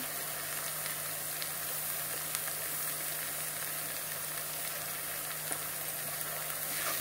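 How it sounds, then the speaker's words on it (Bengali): Spices and chili powder fry in oil in a pan for a Bengali katla fish curry, giving a soft, continuous sizzle with faint crackles, fairly quiet and close, with no talking. "এক চামচ লঙ্কার গুঁড়ো, সব কিছু দিয়ে এখন আরও কিছু সময় ভেজে নেব।"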